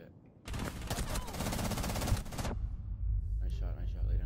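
Rapid automatic gunfire bursts in Rainbow Six Siege, a dense loud volley lasting about two seconds, followed by lower rumbling game noise and brief voice chatter.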